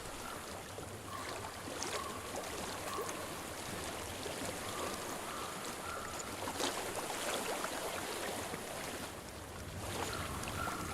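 Water flowing in a stream in the video game Hellblade makes a steady, soft, broadband rushing murmur that continues unbroken at moderate distance, with faint breezy texture and no talk.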